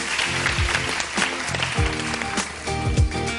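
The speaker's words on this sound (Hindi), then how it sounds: "तालियां भाई शहरियार की" A studio audience on a morning television show claps for an arriving guest, a continuous burst of applause heard over background music with tonal swoops.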